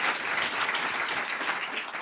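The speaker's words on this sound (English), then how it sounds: "that's worth an applause for sure" Audience applause during an evening storytelling event: a dense, even burst of many people clapping, sustained and fairly loud for a couple of seconds with no voices.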